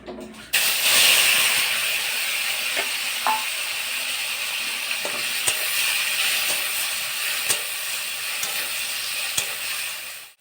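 Fish fries in hot oil in a pan: a loud, continuous hissing sizzle that starts abruptly and holds steady, with occasional small pops and clinks, and no voices.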